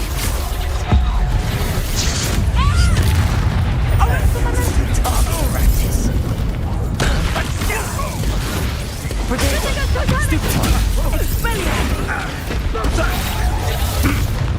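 Confringo fire spell explosions in Hogwarts Legacy combat, repeated booming bursts and pops in a dense, loud battle mix with a voice talking throughout.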